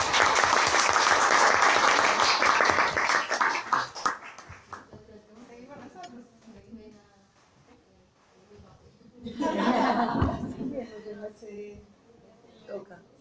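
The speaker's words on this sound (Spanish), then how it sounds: "Un aplauso." An audience at a women's forum held by a Honduran migrant mothers' caravan breaks into loud applause that fades after about four seconds, then swells again in a second shorter burst later on, with scattered murmuring between the two.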